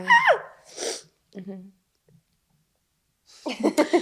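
A single close, sharp sneeze bursts out at the start, followed by a few faint breathy vocal sounds and, after a pause, a stretch of talking.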